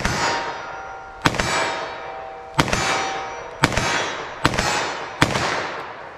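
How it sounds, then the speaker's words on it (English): Six sharp .38 Special gunshots each followed by a ringing clang of a steel silhouette target, spaced roughly a second apart and fired at a steady pace with no talking. "First up, I'm going to shoot the 38 special"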